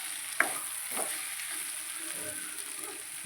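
Brinjal (vankaya) pieces frying in a pan for a fry recipe, giving a steady soft sizzle with a brief stir-like clink early on, quiet and close without talk.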